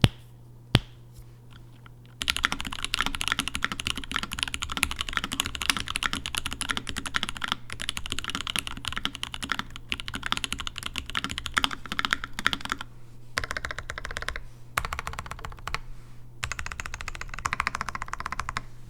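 A mechanical keyboard used for programming and writing is typed on in fast, dense bursts of close, crisp clacking keystrokes, with short pauses between runs and a faint steady hum underneath.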